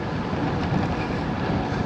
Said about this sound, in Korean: 엄청난 맞바람이 불고 있네요.